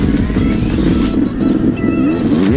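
A Yamaha 250 YZ dirt bike roars close by on a motocross circuit, its loud two-stroke engine rising and falling in pitch as the throttle is worked through the whole stretch.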